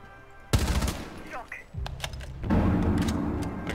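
Gunfire in the video game Rainbow Six Siege: a sharp shot opens a run of bursts and scattered cracks in a tense close-quarters firefight, and players' voices can be heard over it.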